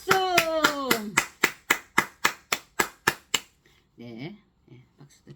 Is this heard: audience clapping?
yes